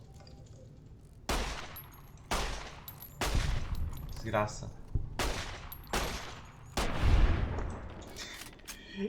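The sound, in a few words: gunfire in the video game Fallout New Vegas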